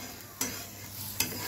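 A puran poli flatbread cooks on a hot griddle with a soft continuous sizzle and hiss, broken by two brief sharper scraping or flipping sounds, close and moderately quiet with no talking.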